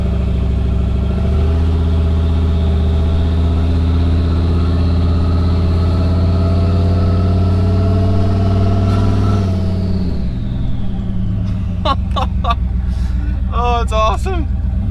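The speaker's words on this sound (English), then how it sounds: "I hear turbo." A turbocharged Chevrolet Avalanche fitted with a Maxpeedingrods turbo, its engine and exhaust droning loud and close with a steady rising whine, then easing off near the end as high chirps and voices come in.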